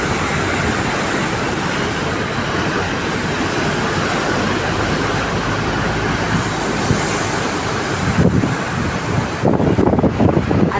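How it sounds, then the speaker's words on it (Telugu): Loud, steady rush of a mountain waterfall stream pouring down from high cliffs beside the road to Gangotri, a continuous broadband roar with a brief burst of nearby rumbling near the end. "అంతెత్తు కొండలపై నుండి పాలధార వచ్చి వస్తుంది వాటర్."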